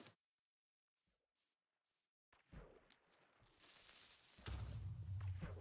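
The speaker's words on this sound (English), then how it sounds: "Harmless explosions." TNT explosions go off underwater in Minecraft, a few faint isolated pops after near-silence, then a rising muffled rumble and churning that grows louder and denser toward the end.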